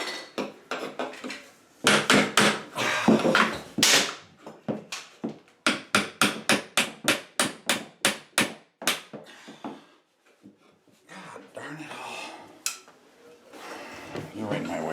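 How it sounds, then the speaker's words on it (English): Repeated hammer blows and clattering as old bathroom trim is torn down during a remodel demolition, a quick run of sharp close knocks in the middle with scraping and handling noise around them. "I'm over here taking down this crappy trim"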